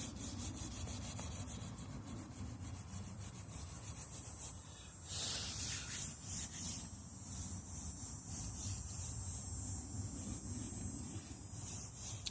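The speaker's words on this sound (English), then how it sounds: "I'm just going to go straight to a 400. I put it on the block, and we're going to sand this out." A sanding block with 400 grit sandpaper works over rust repair on a car body, giving a continuous close, even rubbing scrape that holds steady from start to finish with a brief harsher stretch midway.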